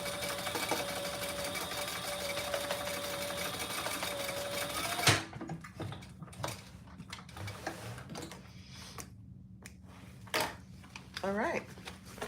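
A sewing machine runs steadily at close range while boxing the corners of a fabric bag, then stops abruptly partway through, leaving scattered handling clicks and rustles.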